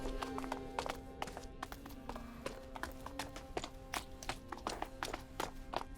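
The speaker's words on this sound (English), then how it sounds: "While stone or more solid surfaces have a more clicky sound." Footsteps on stone in A Plague Tale: Innocence give a steady run of sharp, clicky taps, close and fairly loud, over a low droning game background with no talk.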